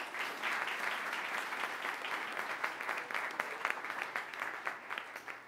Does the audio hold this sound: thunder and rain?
no